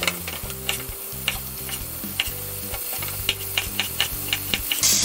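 Chopped onions fry loudly in a pan with a steady, close sizzle, broken by regular clicks and taps from stirring, with no voices.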